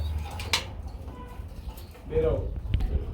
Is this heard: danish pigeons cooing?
yes